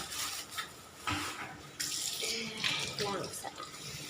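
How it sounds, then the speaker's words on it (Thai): Tap water running steadily while a fish is washed before grilling, a close hissing stream broken by splashes and handling noises. "เราก็จะมาล้างปลา"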